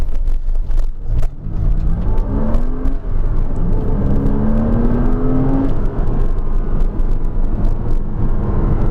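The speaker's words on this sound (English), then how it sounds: "You can hear it likes to rev, can't you? That flat 6 under load sounds like a turbine." Heard from inside a Porsche Cayman S in the rain, its flat-six engine climbs in pitch under load, a smooth rising whir over a constant road rumble.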